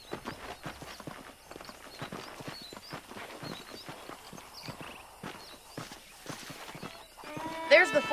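Horse hooves clip-clop in a steady walking rhythm in the video game Red Dead Redemption, moderately close, with faint background sounds and a brief rise in noise near the end.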